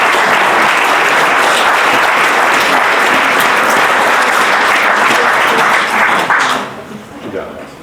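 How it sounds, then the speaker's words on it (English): Loud, dense applause from an awards ceremony audience at middle school athletic awards, steady clapping for about six seconds before tapering off, with some voices mixed in. "All right, big round of applause for these guys."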